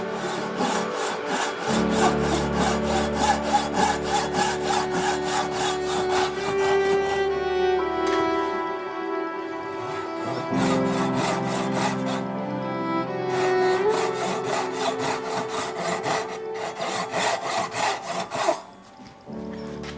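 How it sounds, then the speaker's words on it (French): A Japanese pull saw cuts through wood in rapid, even rasping strokes, loud and close, with the rhythm pausing briefly between bursts of sawing. "c'est une scie qui s'utilise en tirant, c'est une scie japonaise"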